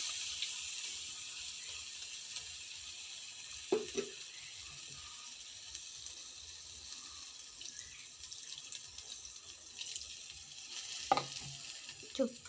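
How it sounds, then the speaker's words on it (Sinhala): A little water goes into meat simmering in a pot, a quiet sizzle with a few brief splashes and clinks over low kitchen background. "මම දැන් මේ මස් එකට වතුර චුට්ටක් දාගන්නවා"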